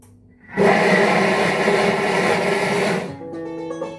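A Thermomix TM6 whirs loudly for about two and a half seconds, chopping chunks of carrot with a rattling churn, then spins down.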